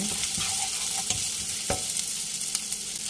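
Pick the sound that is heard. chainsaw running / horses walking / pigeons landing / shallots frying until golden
shallots frying until golden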